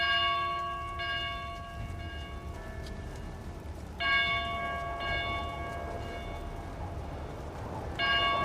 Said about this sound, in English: the sound of one of the smaller bells from one of the belfries can be heard ringing